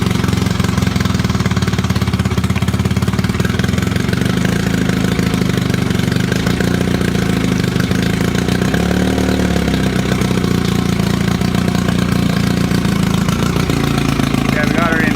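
A 1962 Johnson 10 hp outboard motor runs steadily throughout, its engine note shifting slightly as the gears are worked between neutral, forward and reverse, loud and close with no break.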